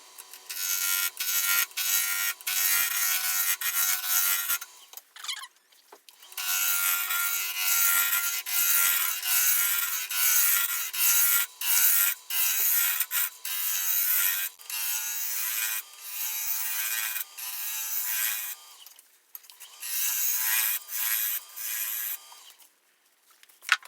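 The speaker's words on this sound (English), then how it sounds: "turn the tenon down here where I have a little more room" Walnut spinning on a wood lathe while a tenon is turned, a steady, close, bright scraping and hissing cut broken by brief pauses and small knocks, with no talk.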